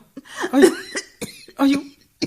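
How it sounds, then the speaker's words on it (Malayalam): Short, rough coughing fit in a radio drama, a few hacking bursts close to the microphone with brief pauses between them. "ചുമക്കാതെ."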